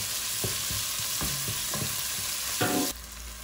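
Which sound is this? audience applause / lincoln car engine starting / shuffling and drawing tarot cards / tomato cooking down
tomato cooking down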